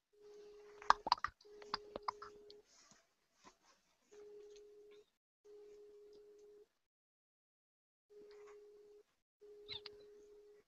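A Skype call ringtone repeats as evenly spaced, steady tonal bursts with brief gaps between them. A few sharp clicks come near the start, and the ringing is fairly faint and heard alone.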